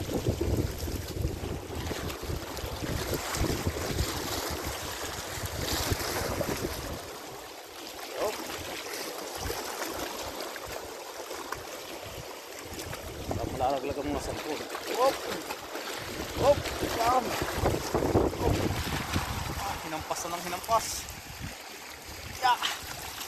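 Rough sea at Al Khobar, Saudi Arabia, roaring steadily with surging waves and gusting wind buffeting the microphone, loud and continuous throughout.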